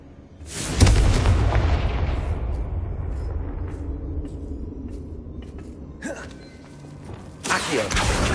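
A Confringo blasting spell explodes in a Harry Potter video game: a sudden loud boom near the start rolls into a long rumbling decay, with a second burst of blast noise near the end.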